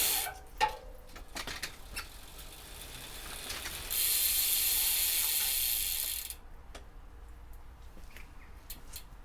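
A bicycle drivetrain being spun up fast on a bike during a cold-weather wash, its freewheel ratchet giving off rapid close clicking and ticking, with a loud steady whirring burst in the middle before it winds down to sparse clicks.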